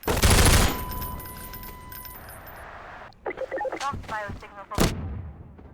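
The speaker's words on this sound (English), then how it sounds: "I'm really impressed that in open areas gunshots make echoes." A burst of loud gunfire in Half-Life 2 VR rings out and echoes across open space, followed by scattered shots and sharp impacts with lingering reverberation.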